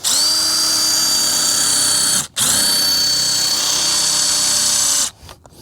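A power drill drives screws into a plastic 9-inch catch basin for a French drain repair: a loud, steady high whine, briefly cut off and restarted, then stopping.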